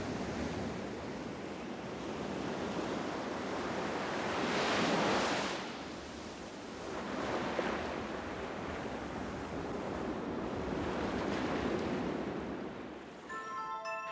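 Ocean surf rolls and breaks on a shore in steady, loud washes of broadband noise, swelling twice into stronger crashing waves with wind rushing across the microphone and no voices.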